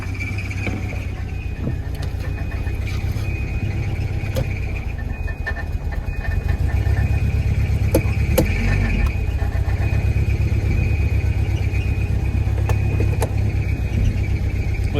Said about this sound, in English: Pretty noisy belts.